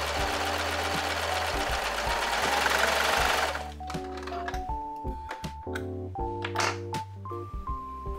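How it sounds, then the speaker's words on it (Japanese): An overlock serger runs hard while finishing the trimmed edges of fabric facing for a handmade blouse, a steady dense whir that cuts off partway, followed by a few short stitching bursts and clicks with no talking. "端を切ってロックミシンでお掃除していきます。"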